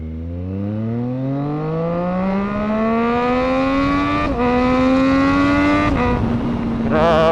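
A Triumph Street Triple R motorcycle engine pulls hard under acceleration while riding, its pitch climbing steadily through the gears with two brief dips at the shifts. The engine is loud and close throughout.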